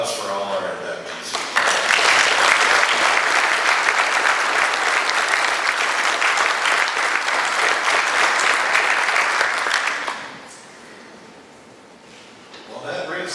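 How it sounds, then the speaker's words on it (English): A long, dense round of applause from a banquet audience honoring fire and police hall of fame inductees at the 2023 State of Wisconsin ceremony. It swells quickly, holds steady for about eight seconds, then fades to quiet room murmur. "how about a round of applause for all our inductees?"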